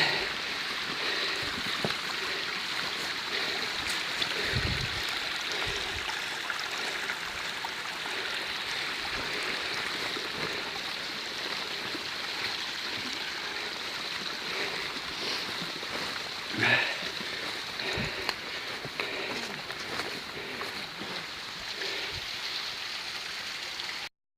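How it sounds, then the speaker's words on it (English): A small woodland stream flows steadily, a continuous close rushing and trickling of water with a few faint knocks and footsteps, and no talking. "It's got to one of the first little streams"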